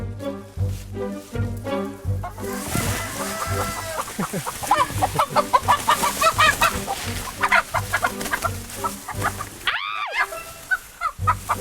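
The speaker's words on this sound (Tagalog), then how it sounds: "Maghahabol lang kami ng mga manok." Native chickens clucking and squawking close by, a noisy flurry of several birds with one loud sharp squawk near the end.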